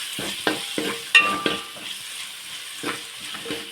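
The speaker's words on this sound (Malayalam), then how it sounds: "അതും ഇട്ട് നമുക്ക് നന്നായിട്ടൊന്ന് വഴറ്റാം" Two medium tomatoes, sliced lengthwise, sauté in a pan for a homestyle chicken curry: a quiet sizzle punctuated by a handful of spoon knocks and scrapes as they are stirred.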